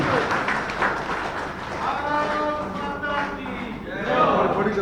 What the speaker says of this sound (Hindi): आमे ताको करताली देई समस्त स्वागत करिया पे अनुरोध करू।